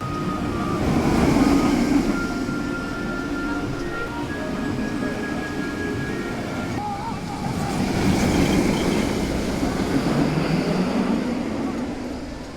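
A Velocicoaster roller coaster at Universal Orlando roars past on a test run, a steady broadband rumble and rush of wind that swells loudly twice as the train passes, with faint voices mixed in.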